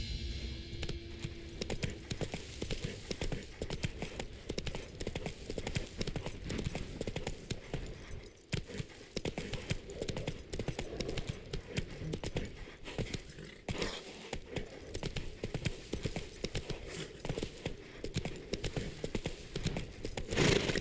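A horse's hooves clip-clop steadily in The Witcher 3 game, faint and continuous under a dense wash of ambient game sound, with jangling tack.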